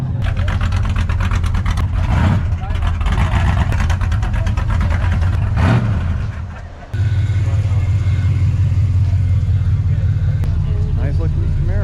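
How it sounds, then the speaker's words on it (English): Engine noise from a truck rolling into an outdoor car meet, a loud steady low rumble that rises and swells as it passes close by, with people talking over it. "Another truck coming in."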